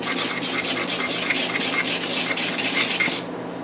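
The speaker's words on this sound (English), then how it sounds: "All right, so just whisk that up." Rapid metal-on-bowl whisking of homemade taco seasoning, a steady busy scraping and clinking that runs continuously for several seconds, fairly close and loud, then stops abruptly near the end.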